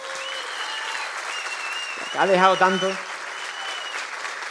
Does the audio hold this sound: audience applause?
yes